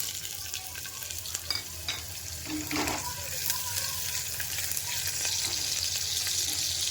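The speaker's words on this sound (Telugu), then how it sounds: "ఇప్పుడు నేను కుక్కర్లో ఆయిల్ వేసుకున్నాను ఫస్ట్ ఈ ఆనియన్ మెంతికూర వేస్తాను" Onion and fenugreek leaves fry in hot oil inside a pressure cooker, a steady soft sizzle with stirring scrapes and a brief clink, fairly quiet and close.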